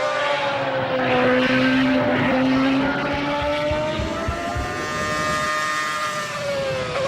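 A Williams Formula One car engine screams at high revs, its pitch rising and falling steadily, loud and continuous throughout.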